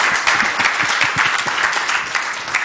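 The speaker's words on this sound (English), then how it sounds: "Oh, you can do some applause as well." An audience at a business talk claps for a few seconds, a close, lively patter of individual hand claps with no voices over it.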